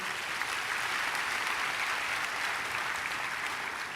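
Steady, even applause from a church congregation welcoming a gospel singer to the stage, a continuous wash of many hands clapping with no talk over it.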